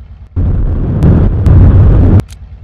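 A rocket-hand blast in a VR game: one loud, sustained roaring burst of close, broadband rumble lasting a couple of seconds, marked by a few sharp cracks, then cut off abruptly.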